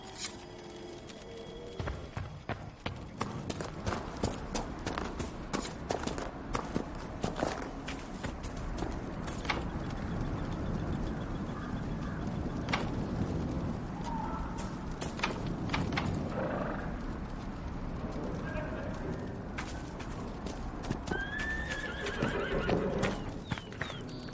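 Hooves clip-clopping steadily and a horse neighing in the Dragon Age: Inquisition video game, near and continuous, with occasional whinnies over the rhythmic footfalls.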